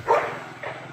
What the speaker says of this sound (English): there's another neighborhood dog and Bella's gonna fuss.